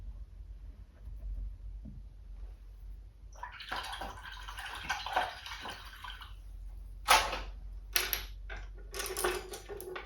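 A liner paint brush is swished and tapped in a water cup during an acrylic painting session, giving soft splashy rinsing bursts followed by several sharp clinks against the container, close and fairly quiet.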